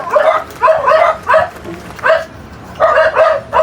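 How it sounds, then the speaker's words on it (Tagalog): A dog barks repeatedly and loudly nearby, in short bursts of two or three with brief pauses between. "yung ating aso nga ay maingay mga idol"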